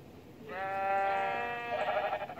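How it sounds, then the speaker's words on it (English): A sheep in the video game Minecraft lets out a single drawn-out, wavering bleat lasting just over a second, close and clear, with no talk over it. "It's a sheep."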